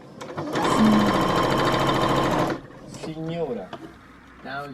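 A sewing machine stitches fabric for a red bohemian wedding dress in a rapid, steady mechanical burst lasting about two seconds, loud and close, then stops as a person begins talking.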